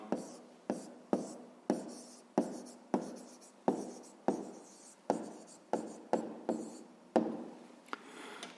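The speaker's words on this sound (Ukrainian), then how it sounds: "Пишемо Примаченко" A pen or pencil writing an answer by hand, about a dozen short, scratchy strokes in a steady rhythm, close up and quiet, with no talking.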